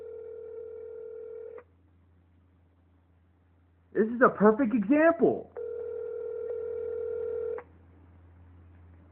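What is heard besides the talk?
phone ringing on a call to 911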